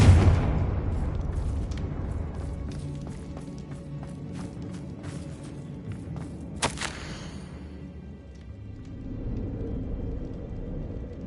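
A Confringo fire spell from the video game Hogwarts Legacy goes off as a single sharp, bright burst midway through, set against steady game music and a low rumbling ambience.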